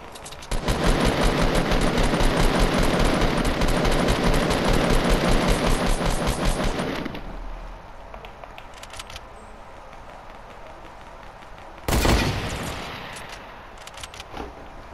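Video game gunfire rattles in a long, loud automatic burst of rapid, evenly spaced shots for about seven seconds, then falls quiet before one short, sharp burst near the end.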